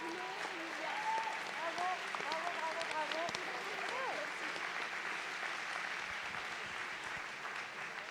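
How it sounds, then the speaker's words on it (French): An audience claps steadily in a hall at a New Year's greetings ceremony honouring local young people, with voices and cheers mixed into the sustained applause. "On peut applaudir bien fort notre jeunesse"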